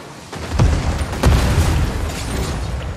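A grenade blast in the Fortnite video game, heard as two loud, booming detonations about half a second apart with a rumbling wash between and after them.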